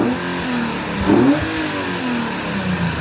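Nismo 370Z V6 on stock intakes blipped once near the microphone, rising sharply to a short rev peak then settling back to a rough idle hum.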